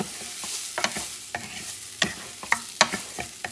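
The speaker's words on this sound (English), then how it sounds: "What I'm doing here is mixing things up." Long-grain rice being stirred in a pan, heard as a series of light, irregular scraping and clinking strokes over a faint sizzle, close and fairly quiet, with no voices.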